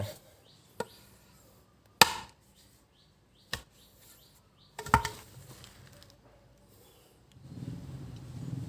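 Several sharp, separate chops of a cutting knife strike large, thick bamboo, spaced a second or so apart, then a rustling scrape follows.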